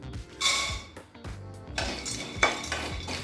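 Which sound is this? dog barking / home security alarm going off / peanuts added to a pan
peanuts added to a pan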